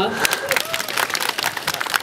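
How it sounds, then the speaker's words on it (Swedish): An audience at a children's singing event applauds two girls, a brief burst of clapping with voices and chatter mixed in. "Det tar vi en applåd på."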